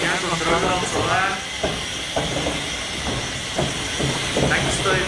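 A green steam locomotive with a mechanical stoker hisses steadily at close range, while bursts of talk and other voices run over the hiss.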